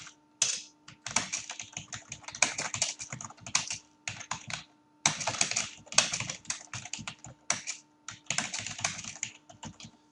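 Fingers typing on a computer keyboard, close and clear, in quick irregular bursts of clicky keystrokes with short pauses between runs, no voices.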